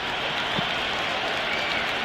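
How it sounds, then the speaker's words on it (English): Steady crowd applause and cheering fills a cricket stadium in the video game Cricket 26, India versus Australia, a dense continuous roar of clapping at even loudness throughout. "It's evident and ever so audible that the crowd is at near bursting point at today's play."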